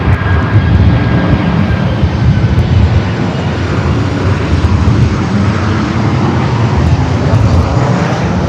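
A Southwest jet airliner takes off at Los Angeles LAX airport, its engines giving a loud, sustained roar that holds steady and fills the whole stretch, with faint voices underneath.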